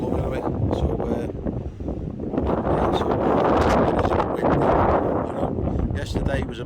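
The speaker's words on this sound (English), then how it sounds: "So, yeah, so it is a bit windy, you know." Wind gusts across the microphone on the Mersey shore during a fishing session, a rough rumbling buffet that rises and falls while someone talks over it.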